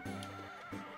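Horse in the video game Harvest Moon DS giving a short, synthesized whinny in two quick bursts, clear and alone, with a faint steady game tone underneath.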